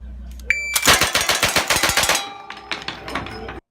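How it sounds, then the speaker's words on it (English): Rapid-fire shots from a lever-action rifle chambered in .357 Magnum, about a dozen loud, closely spaced cracks in a fast string, ringing out and fading near the end. "Just how fast could you shoot this firearm? Here's a world record."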